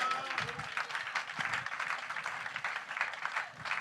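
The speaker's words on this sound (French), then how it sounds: "Oh, que quelqu'un applaudisse le Seigneur." A church congregation applauds together at a Sunday service, a dense, steady patter of many hands with scattered voices and cheers mixed through it, moderately loud and continuous throughout.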